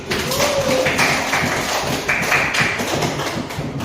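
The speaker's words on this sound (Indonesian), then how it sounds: "Tepuk tangan untuk kelompok ini." Classroom of students clapping for a group after a dance lesson, a busy, fairly loud patter of hands mixed with chatter and voices throughout.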